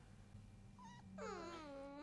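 A dog from the anime Cowboy Bebop lets out a short, high whimper, rising and falling in a thin whine over a faint background.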